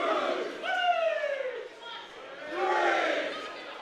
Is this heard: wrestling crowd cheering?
yes